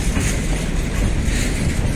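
Three trains run side by side, including container wagons and an empty freight wagon, producing a dense, loud rolling rumble with clickety-clack wheel noise close by.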